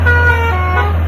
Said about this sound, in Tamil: இப்படி ஹாரன் அடிச்சீங்கன்னா